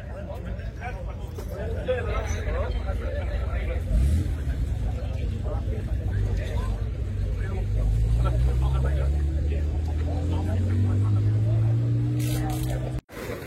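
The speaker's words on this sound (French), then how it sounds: "Un spécial pour Bertrand, la voiture du patron qui arrive. La Ford GT40" A Ford GT40 arrives at the Tour Auto 2024 parc fermé in Carcassonne, its engine a steady low rumble that rises in pitch as it revs and approaches, loud and close with people talking over it.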